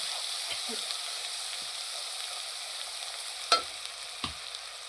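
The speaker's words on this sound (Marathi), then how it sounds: "अद्रक लसूणची पेस्ट झाली की आपण वाटून घेतलेला जो मसाला आहे तो मसाला ह्याच्यात टाकून तेल सुटेपर्यंत फ्राय करून घ्यायचा" Ginger garlic paste and ground masala fry in oil with a steady, close hiss, broken by a few soft clicks and one sharper clink of a utensil against the pan.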